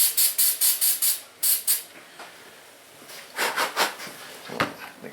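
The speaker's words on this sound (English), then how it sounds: "Got a little bit of parts cleaner on it." Parts cleaner sprays from an aerosol can onto an O-ring from a Honda Ridgeline head gasket set in a rapid series of short, loud hissing bursts, then a pause and a second, more uneven run of sprays.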